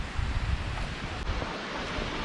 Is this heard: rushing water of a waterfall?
yes